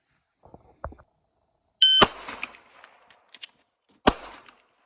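Handgun shots at a shooting range drill: a steady electronic beep, then two sharp, close reports about two seconds apart, with faint handling clicks between them.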